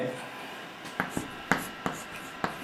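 A marker or chalk striking and scratching across a classroom board while a teacher writes out a matrix problem, a few sharp taps and strokes spaced irregularly over a quiet hum.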